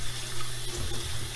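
Water runs steadily from a kitchen tap while coconuts are washed, a close continuous splashing rush with no talking over it.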